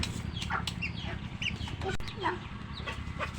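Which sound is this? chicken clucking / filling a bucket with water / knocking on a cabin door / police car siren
chicken clucking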